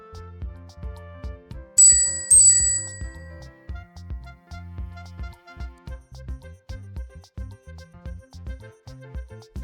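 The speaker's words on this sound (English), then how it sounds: "Can you hear this bell?" A bicycle bell rings twice, bright and clear, above a bouncy children's music track that plays throughout.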